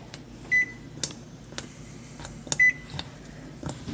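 Microwave oven timer being set for one minute in a home kitchen while a pot boils, giving two short, clear electronic button beeps about two seconds apart over a low hum with faint clicks.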